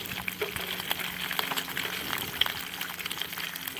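Two slices of bacon frying in a pan over an outdoor wood fire, a steady crackling sizzle with small pops and spits, fairly close and with no talking.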